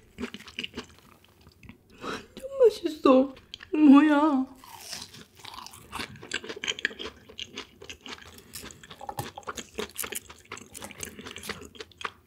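Crunchy cheese balls from Mom's Touch are chewed close to the mic, crisp bites and wet mastication sounds repeating through the clip with intermittent soft talk.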